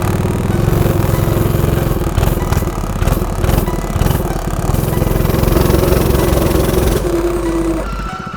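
Homemade motorcycle built from a VW Beetle fender, its small engine running loud and close with a steady buzzing drone and clattering revs, faint voices underneath before the engine note drops away at the end.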